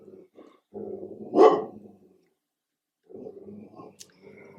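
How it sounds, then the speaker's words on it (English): A pet dog barks in the background, its yaps rising into a short burst partway through, then fading to quiet before faint household sounds return. "Sorry if you hear my dog barking in the background."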